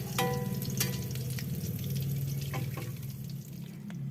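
Ingredients sizzle steadily in hot oil in a pan for Sundanese nasi liwet, with scraping and clinking as a spatula stirs them, loud and close throughout.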